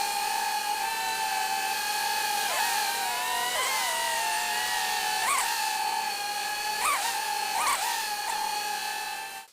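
A DJI Avata 360 drone in flight gives off a loud, continuous propeller whine whose pitch repeatedly dips and swells as it maneuvers, with no one speaking.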